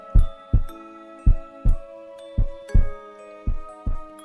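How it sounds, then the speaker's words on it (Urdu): A racing heartbeat sound effect in a horror story setting, with deep paired thumps repeating at a quick, regular pace, loud and close over a sustained tonal drone. "دھڑکن جیسے ایک دم سے فل اسپیڈ سے چل رہی تھی"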